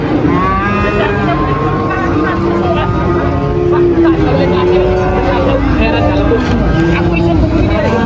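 Cattle, including Simmental cows, call out at a busy livestock market, with drawn-out moos and bleats rising over a dense crowd din and someone talking nearby.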